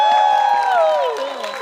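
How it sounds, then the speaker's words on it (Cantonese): Audience at a Hong Kong cinema thank-you screening of the film A Step into the Past cheers and claps, a loud mixed burst that begins full and slowly thins out. "我哋俾啲掌聲佢哋恭喜先。"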